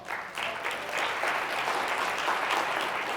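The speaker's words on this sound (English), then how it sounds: "Give her a round of applause" Audience applause at a social gathering, building quickly after a brief lull into a full, sustained patter of many hands clapping, near and steady throughout.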